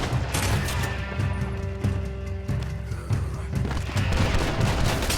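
Dense gunfire in the Western video game Red Dead Redemption 2 during a fight over bootleg liquor, a loud continuous barrage of shots and impacts that fills the whole stretch with a low rumbling backdrop.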